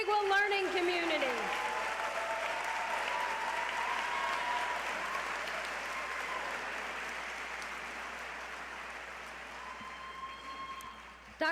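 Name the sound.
audience applause at ceremony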